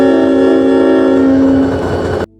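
A 20-cylinder diesel locomotive, very loud and close, blaring a sustained harsh horn-like tone over a deep engine roar that holds steady and then cuts off abruptly near the end.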